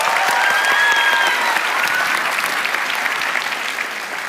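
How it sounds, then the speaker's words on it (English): A large crowd at a TEDx Sydney Youth event applauds loudly and steadily, a dense wash of clapping with a few whoops, slowly tapering off. "give all the curators and all of the volunteers here at TEDx Sydney a huge round of applause"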